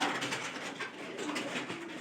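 Soft, continuous cooing of pairs of pigeons beginning to lay eggs fills a noisy indoor space, several birds murmuring at once with no one speaking.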